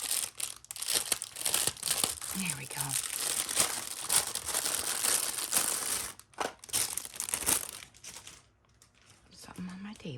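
Loud, close crinkling of a plastic bag being pulled open, with bursts of rustling and tearing, and a person speaking briefly near the end.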